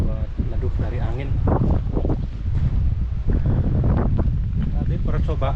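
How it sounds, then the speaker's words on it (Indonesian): Strong wind gusts across an exposed camp on the slope of Mount Sindoro, rumbling and buffeting the microphone steadily beneath a person talking close by. "Nggak ada tempat buat neduh dari angin."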